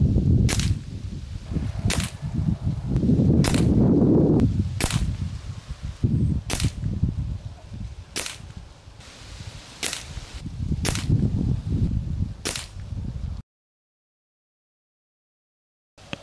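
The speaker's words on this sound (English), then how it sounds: "10 shots kind of through the bullseye" Ten sharp, evenly spaced shots from a Benjamin Marauder .25 air rifle strike a target at close range. Each is a crisp crack over a low background rumble, ending in silence.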